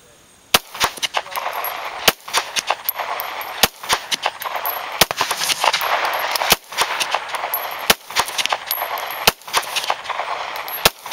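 A Glock 17 Gen 4 pistol fired repeatedly, sharp loud reports at irregular intervals over steady background noise, with other gunfire and faint murmurs between shots.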